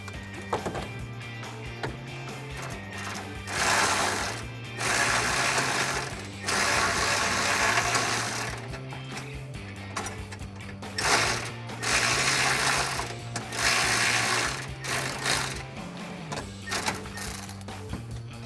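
Bolts are tightened on a smog pump bracket on a Tacoma with a ratchet, heard as bursts of rapid clicking separated by short pauses, close and fairly loud, with no voices.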